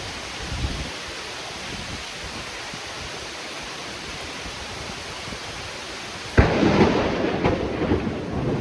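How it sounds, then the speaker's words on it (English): Outdoor thunderstorm with steady broadband rain hiss throughout, then a sudden louder surge of heavier downpour or close thunder near the end, with no voices. "oh crap, it's raining on me."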